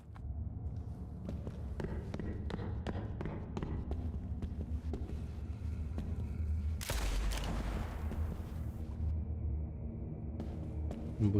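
Rapid bursts of game gunfire crack over a constant low rumble, with one heavy blast near the middle that rings out before the clatter continues.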